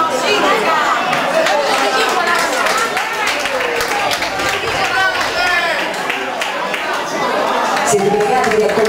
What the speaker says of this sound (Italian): siete pregati di alzarvi tutti all'impiedi, quelli che sono seduti, e fare un applauso così forte